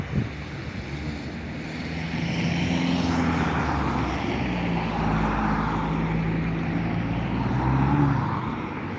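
A Ryanair Boeing 737 MAX 8 lines up on the runway at Dublin Airport, its engines producing a steady distant rumble and hum that swells slightly, with wind buffeting the microphone throughout.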